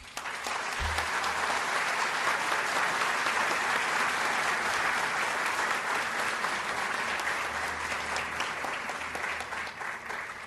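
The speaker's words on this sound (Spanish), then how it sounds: "para quien pido un aplauso" An audience applauds at a solemn anniversary ceremony of an engineering society, with steady, dense clapping that lasts throughout and slowly tapers near the end.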